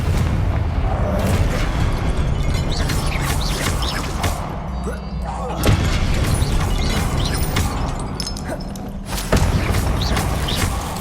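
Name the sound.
spell blasts cast in Hogwarts Legacy video game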